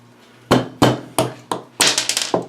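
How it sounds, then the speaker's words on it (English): Soft hammer striking a brass punch set against a piece of wood while working on a 1911 pistol backstrap: sharp separate taps, four spaced blows followed by a quicker cluster of lighter taps, close and clear. "I'm just going to use a piece of wood and a brass punch."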